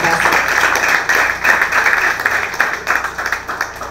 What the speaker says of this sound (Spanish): Les brindamos un merecido aplauso a los 12 finalistas.